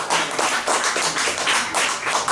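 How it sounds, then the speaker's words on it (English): An audience at a New York City poetry showcase claps steadily in rhythmic waves, loud and close, as a poet approaches the mic. "You keep clapping till she gets up here."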